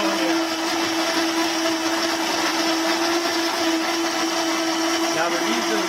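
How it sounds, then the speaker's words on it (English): A Cuisinart Hurricane Pro blender runs continuously with a loud, steady, high-pitched whir that holds at an even level throughout. "the easiest way for me to do it is going to be using this Cuisinart Hurricane Pro"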